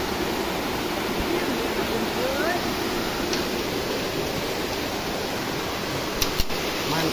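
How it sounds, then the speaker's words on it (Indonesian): Constant loud roar of a waterfall at the foot of Mount Syawal, a dense even rush of falling water filling the whole clip. "air terjun."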